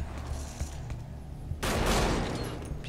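Gunfire in the video game Metal Gear Solid 5: a dull low rumble gives way to a sudden loud burst of shots and crackling that carries on to the end, with no talking.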